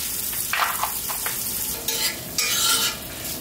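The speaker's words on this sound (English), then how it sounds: "In goes that onion, and it was thinly sliced." Thinly sliced onion sizzles and fries in a pot with fresh ground black pepper, with stirring scrapes and steady crackling hiss close by, swelling in louder bursts near the end.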